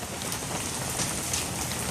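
Hail from ping-pong to quarter size pelts down outdoors in a dense, steady clatter that fills the whole stretch evenly, with no voices over it.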